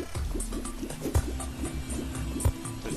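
Water in the Terraria game gurgles and drips in a repeating bubbly pattern, with low thumps recurring at regular intervals, steady and fairly close with no talking.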